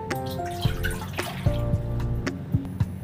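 Water pours and drips into a cooking pan on a gas stove, set out for boiling cabbage, with a few close splashes and trickles over a short stretch and no talking.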